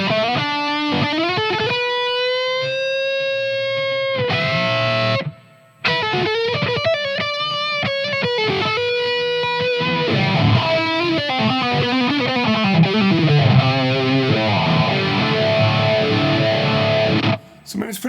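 Electric guitar through the lead channel of a Fender ToneMaster Pro amp modeler, playing distorted sustained notes and runs, with a brief pause midway; fairly loud and mostly alone, though a voice may briefly break in.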